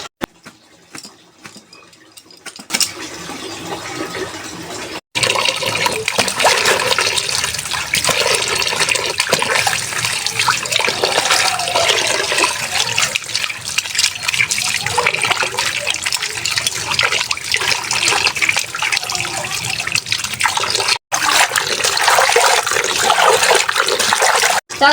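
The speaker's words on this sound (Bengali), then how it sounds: "চালতাগুলোকে ভালো করে ধুয়ে নিলাম" Elephant apple (chalta) fruit being washed in water: a continuous close splashing and gushing runs throughout, like a tap filling a bowl, with brief interruptions.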